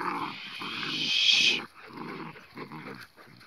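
A Kangal dog and a neighbour's dog scuffle, with rough growls and snarling huffs in a steady throbbing rhythm, close and fairly loud, plus a brief higher whine near the start.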